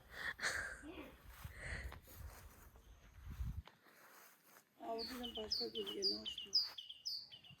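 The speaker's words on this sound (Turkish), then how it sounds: "Senin şey, kuş türkü söylüyor." Bright bird chirps and whistled notes repeat in the second half, with voices and rustling earlier and a quiet gap in between, in a village garden.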